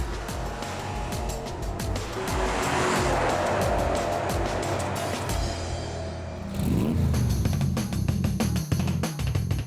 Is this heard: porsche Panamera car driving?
yes